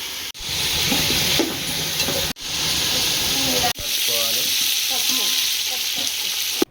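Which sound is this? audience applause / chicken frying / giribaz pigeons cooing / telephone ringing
chicken frying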